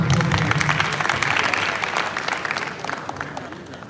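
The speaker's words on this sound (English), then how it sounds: "Please give yourselves a round of applause." An awards ceremony audience breaks into dense, sustained applause that slowly fades over several seconds, with a crowd murmur and some voices mixed into the clapping.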